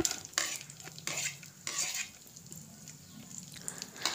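Cashews and pistachios fry in hot ghee with a soft crackling sizzle, punctuated by several sharp scraping strokes of a stirring spoon against the pan, close and quiet, no talking.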